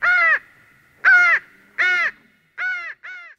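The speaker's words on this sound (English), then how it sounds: "the silence was shattered only by the scream of a raven" A raven gives five harsh, hoarse caws in a steady series, loud and close against silence, the last two slightly shorter.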